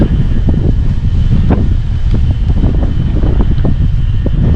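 Strong wind buffets the microphone continuously in Alykes, near the salt lakes, a loud low roar with gusty rumbles throughout.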